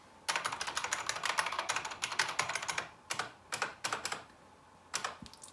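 Loud, clicky buckling spring keys on a ThinkPad T60 laptop keyboard clatter in rapid typing bursts, with short pauses between runs of keystrokes, close and clear with no voices.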